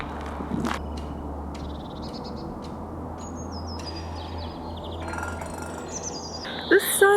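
Several birds chirp and call out of doors on a morning with a blue sky, their short bright notes scattered through the clip above a steady low hum. A louder, closer call comes near the end.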